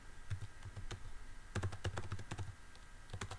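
Steady typing on a computer keyboard, a run of quick irregular key clicks in bursts with short pauses, close and fairly quiet, with no voices.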